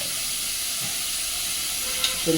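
Beetroot fries in a pan for a curry, giving a steady, close sizzling hiss, with a soft scrape or two of stirring near the end.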